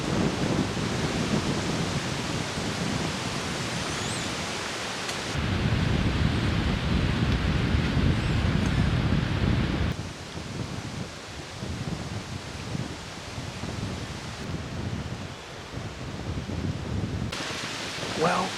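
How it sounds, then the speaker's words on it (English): Strong wind roars steadily outdoors in Pennsylvania woods during turkey season, a loud broadband rush that swells and eases in gusts throughout. "it's super windy"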